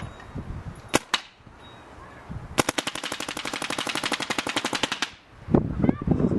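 A Macdev Clone GTI airsoft gun fires a few single shots, then a fast, even burst of about thirty rapid cracks at roughly 12 rounds per second, loud and close, with handling noise after.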